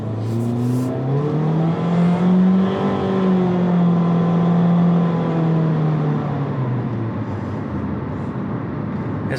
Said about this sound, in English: as you let go of the accelerator, it starts to pick up faster because of that